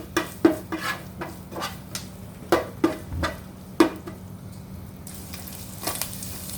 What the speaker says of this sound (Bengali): সামান্য রসুন কুচি একটু হালকা ভেজে নেব